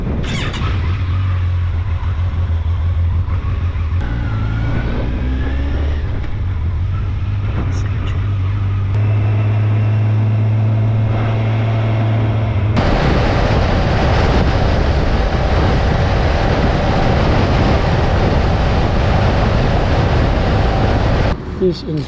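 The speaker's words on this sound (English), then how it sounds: "This incredibly strong wind, side wind, it's quite difficult to ride actually." Strong side wind roars across a microphone while riding on a touring bike in Denmark, a loud continuous rumble and buffeting that grows harsher partway through.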